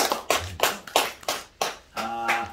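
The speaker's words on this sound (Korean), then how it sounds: "무슨 박수 한번" Audience applause after a sung performance at a lecture hall gathering, heard as several separate bursts of hand clapping, fairly close, with brief gaps between them and a voice starting to talk near the end.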